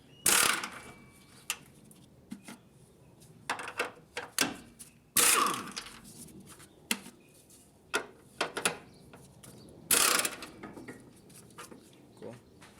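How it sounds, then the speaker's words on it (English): Strut top nuts being removed on a Toyota MR2 with a ratchet, close clicking bursts of the pawl in uneven runs, separated by metallic clanks and pauses, fairly quiet. "we're going to go ahead and remove these 3 nuts like we said, so we can actually go ahead and take out the strut itself"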